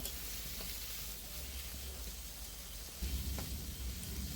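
Small potato pieces fry steadily in spiced oil for a Bengali muri ghonto, giving a continuous close sizzle with brief stirring scrapes and a slight rise in crackle partway through, and no talking.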